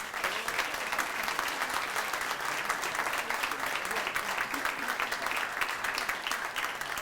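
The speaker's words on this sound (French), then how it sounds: "Bonne main d'applaudissements, mesdames et messieurs, à France Bergeron, bénévole impliqué." A gala audience applauds a volunteer at a hospital foundation's 40th anniversary event, with a steady, even roar of many hands clapping throughout, heard from a moderate distance.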